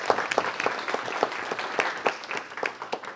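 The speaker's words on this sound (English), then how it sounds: "Let's give him a round of applause for bringing him out." A small audience at a council meeting claps in a round of applause, individual hand claps distinct and fairly close, with a steady uneven rhythm over a few seconds.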